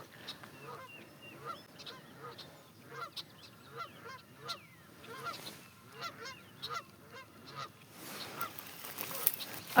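Geese walking up a garden path in an early spring meadow honk repeatedly in an irregular series of nasal calls, moderately close, with a louder rustle at the end.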